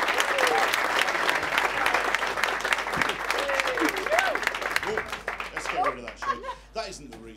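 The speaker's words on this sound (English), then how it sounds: "Start a clapping, lots of us," An audience bursts into dense, sustained applause to welcome a comedian to the stage. The clapping is loud and close, with scattered laughter, and thins out toward the end as a voice begins.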